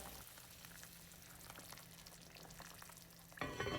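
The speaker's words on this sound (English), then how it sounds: "this is the first stir" A spoon stirring Vietnamese braised pork riblets simmering over low heat in a pot, soft bubbling and scraping with a brief louder clatter near the end.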